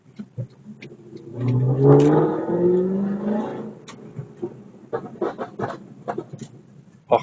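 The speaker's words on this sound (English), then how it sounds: "You guys get a little bit of AMG exhaust." Mercedes C63 AMG exhaust revving on the street, a rising and falling engine roar of a few seconds in the middle, followed by scattered clicks and light sounds.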